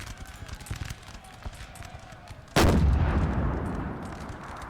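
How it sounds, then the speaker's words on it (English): Napoleon: Total War multiplayer battle with a cannon firing in a single loud, booming blast over distant crackling musketry and battle noise, the rumble slowly fading. "And France is going to be broken by an artillery piece."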